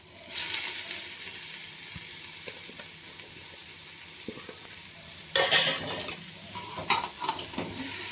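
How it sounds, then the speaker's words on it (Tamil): Mint leaves sauté in chili-spiced oil for biryani, giving a continuous close sizzle with scraping stirs and a few utensil knocks against the pan, no voices. "இப்போது புதினா இலை வந்து ஒரு கைப்பிடி போட்டுக்கலாம்."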